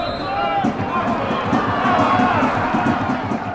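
Dense, steady roar of a large football crowd of about four thousand at kickoff of a Hartlepool versus Dorking match, a continuous wash of voices and shouting that stays loud throughout.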